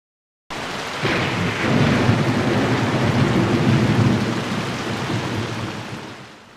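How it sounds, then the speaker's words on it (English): Heavy rain pouring outdoors in a Japanese city, with a broad rolling rumble of thunder swelling and slowly fading beneath the steady hiss of rainfall. "It's raining out"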